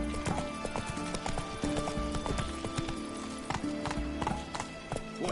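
Horse hooves clip-clopping in the Witcher 3 video game, a steady, close trotting rhythm over a dense layered game soundscape with a brief horse whinny mixed in.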